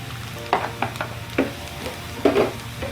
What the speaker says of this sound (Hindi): ऑनियन गार्लिक सौते होने के साथ साथ आप डालेंगे कैरेट्स